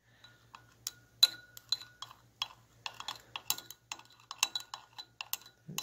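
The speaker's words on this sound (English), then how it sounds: "And then we're going to stir that up." A stirring rod clinks repeatedly against a glass beaker while polymer is mixed into a sludge sample, producing a series of light, irregular ticks and taps close by over a faint low hum.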